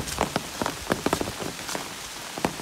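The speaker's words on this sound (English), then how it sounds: "Let me continue to push on here in this little rain." Light rain falls on the Appalachian Trail, a steady soft patter with scattered sharper drops tapping nearby surfaces, heard alone without voices.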